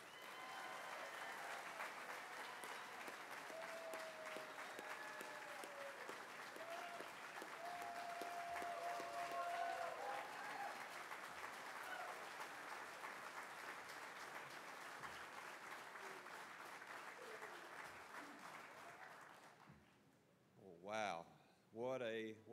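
A large audience at the Cherokee Nation State of the Nation 2022 gathering applauds steadily for about twenty seconds; the clapping then dies away and a voice speaks briefly.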